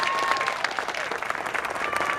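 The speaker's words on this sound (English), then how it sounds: "Please give them a round of applause." A crowd applauds at the opening ceremony of a 24-hour track walk, a sustained fairly quiet patter of many hands clapping at a distance, with a faint tone running through it.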